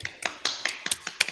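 A handful of sharp, separate hand claps in a classroom for a group of students, about eight quick hits in a loose, uneven rhythm, close and fairly quiet.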